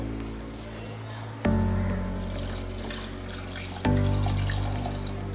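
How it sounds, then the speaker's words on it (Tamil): Water pours steadily into a cooking pot of hariyali chicken, a loud continuous gushing broken by two sharp knocks, as if the pot or vessel is jolted, with no talking. "தேவையான அளவு தண்ணி சேர்த்துப்போம்."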